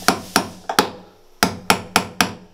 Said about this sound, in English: I'm going to take that same punch and hammer it back